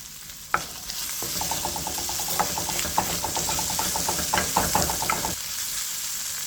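Pimento berries tumble into a hot pot and get stirred through a steady sizzle. A sharp drop of the berries is followed by quick rhythmic scraping and clinking of the spoon against the pot, close and alone, before the stirring stops and the sizzle carries on.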